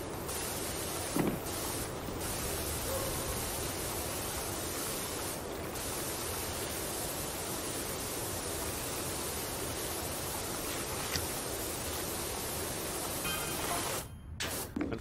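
A pressure washer sprays a carousel in PowerWash Simulator, giving a steady, loud hiss of water jet that runs continuously with only brief dips and a short cutoff near the end, no talk.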